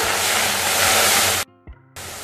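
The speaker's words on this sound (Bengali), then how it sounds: "এখন জল দিলাম একটু।" Water is poured into a cleaned wok (kadai) while making a jujube (kul) pickle. It makes a loud, hissing rush that runs for over a second, then cuts off abruptly, followed by a few small clinks and a lower steady hiss.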